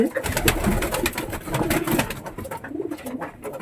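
Lotan pigeon cooing close by in repeated soft, throaty rolling calls that run continuously through the whole stretch, with other birds faintly in the background.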